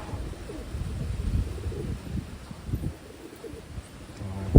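A Wantai racing pigeon gives soft, low cooing. Several brief murmured coos rise and fall close by at a quiet level, mixed with faint handling noise.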